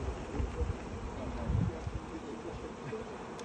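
Honeybees from a package being hived fill the air with a dense, continuous buzzing hum, with some soft thumps and handling noise underneath.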